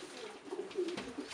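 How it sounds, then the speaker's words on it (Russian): Young black Kostroma pigeon with white wing markings cooing in a loft, a soft continuous murmuring coo with a few louder swells across its length, close by and alone. "мой костромской голубенок"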